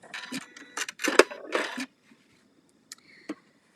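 A sewing machine stitches quilt pieces together with a quarter-inch seam, sounding as several short rapid whirring bursts close by, followed by quiet gaps and a couple of faint clicks.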